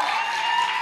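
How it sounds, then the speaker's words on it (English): An audience claps together at a church service to honor a Toronto worship team, a steady, dense patter of hands that stays even for a brief moment. "Will you please clap your hands for our Toronto people?"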